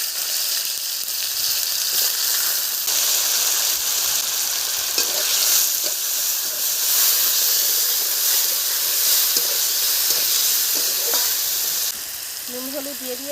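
Potato pieces fry in hot oil in a home kitchen pan, a steady loud sizzle and hiss with occasional stirring clatter, running on without talk.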